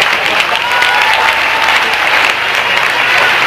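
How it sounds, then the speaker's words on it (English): Loud, sustained audience applause at a gold award presentation for a band, as a drummer is called to the stage: a thick, even roar of many hands clapping, close and continuous without pause. "A round of applause before he does anything."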